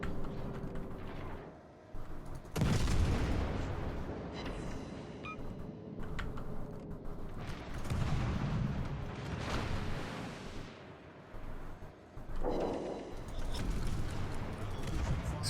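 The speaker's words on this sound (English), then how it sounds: "It's firing high explosive" High-explosive shells fired from a warship's guns in a naval battle video game involving an Omaha cruiser and a Koenig: several heavy booming blasts, roughly five seconds apart, rise out of a constant low rumble of battle noise.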